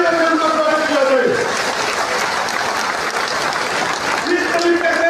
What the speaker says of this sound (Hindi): एक बार जोर से तालियां से उनका स्वागत किया जाए।